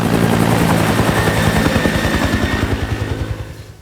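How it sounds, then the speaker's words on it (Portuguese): A helicopter approaches with a loud, steady rotor thump and turbine roar that fills the scene, its rhythmic blade chop pulsing throughout, then easing slightly as it settles. "o mesmo helicóptero que levou Wolverine para a ilha aparece"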